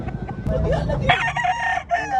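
A rooster crows loudly and close by, a drawn-out cock-a-doodle-doo, following a brief burst of clucking and other fowl noise, at a gamefowl expo in Carbon Public Market, Cebu City.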